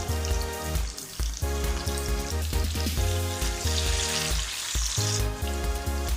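Chicken pieces for shawarma sizzle steadily in a hot pan, a loud, continuous close-up crackle of frying with occasional stirring or pressing, while music plays throughout.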